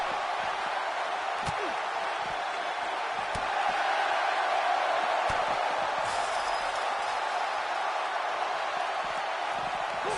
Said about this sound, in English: This capacity crowd is beside itself.